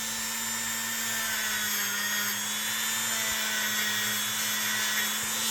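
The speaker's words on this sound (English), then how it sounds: "I typically don't like using the wire brush on the metal, except like on the tangs" A motorized wire brush cleaning the grooves of a Hubertus Springer knife whirs with a steady high-pitched hum and hiss, constant and close, with no talk.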